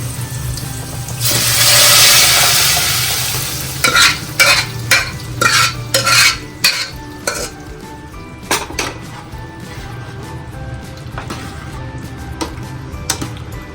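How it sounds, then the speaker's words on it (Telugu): Dal tipped into a sizzling chilli tempering in a pan, a loud hiss swelling at first, then a run of rhythmic scraping strokes from a spoon stirring against the metal, settling into a quieter simmer. "మనం పప్పు ఇందులో వేసుకుందాం."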